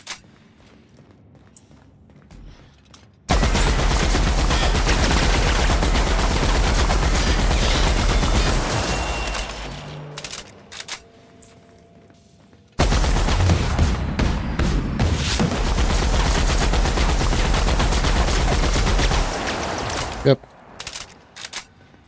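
Sustained loud weapon fire in The Outer Worlds, two long continuous bursts of rapid shots each lasting several seconds, separated by a short quiet gap with scattered game sounds and footsteps.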